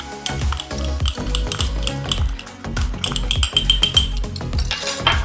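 Brown sugar, chili powder and cumin are mixed together in a bowl, giving quick, busy clinking and scraping of a utensil against the dish in a rapid, irregular rhythm, with no talking.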